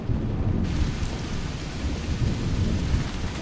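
Steady rain with a low rumble of thunder underneath from the video game Vein, continuous and fairly loud, with no voices.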